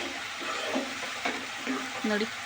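Beetroot palya frying and being stirred in a pan, a soft steady sizzle with a few scraping stirs of the spoon, close and alone.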